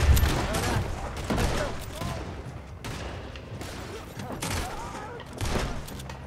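Dense rolling gunfire in Red Dead Redemption 2 from Hosea's gun and others, with bursts and booms overlapping in a continuous fusillade across the whole stretch.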